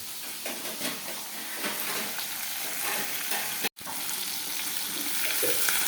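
Pabda fish and cumin paste spices frying in plenty of oil in a home kitchen, a loud continuous sizzle and hiss with stirring, close up, briefly cutting out before resuming, no talking.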